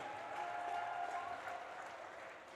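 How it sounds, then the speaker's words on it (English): Spectators at a girls high school hockey game applaud a senior player, a steady, fairly faint wash of clapping from the stands that tapers slightly over a couple of seconds. "Big round of applause for Carly"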